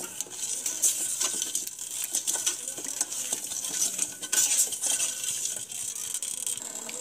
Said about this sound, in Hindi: कहीं ये नीचे लग ना जाए तो इसको चलाते रहना है